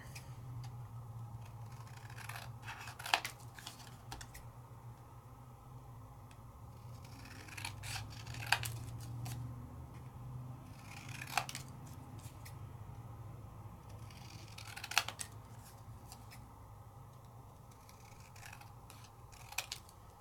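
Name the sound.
scissors trimming paper card layout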